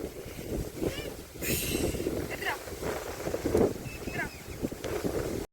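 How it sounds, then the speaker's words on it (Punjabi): Strong wind blowing across an open farm field in Punjab, roaring and buffeting the microphone continuously, with faint voices and brief rustling bursts under the gusts. "ਹੁਣ ਦੇਖ ਲਓ ਵੀ ਰੱਬ ਫੇਰ ਆ ਗਿਆ ਹਵਾ ਕਿੰਨੀ ਚੱਲਦੀ ਪਈ ਆ"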